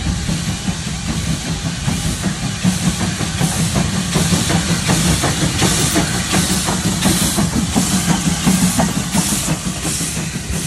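A steam train passes close by with loud, continuous hissing steam over a rhythmic chuffing and engine rumble, steady throughout with no voices.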